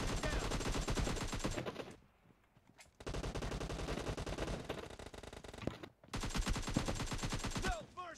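Dense bursts of rapid video game gunfire, loud and close, in three long volleys with short pauses between them.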